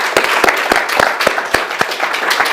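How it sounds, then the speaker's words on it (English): Applause for a guest at the close of a business interview: steady, evenly spaced claps, fairly loud and close, lasting a couple of seconds with no voices over them. "Please give her a big round of applause"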